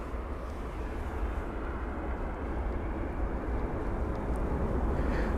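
An Air China Airbus A350-900 arrives at London Heathrow, heard as a steady, broad jet roar that builds slightly over the seconds, with no other sounds.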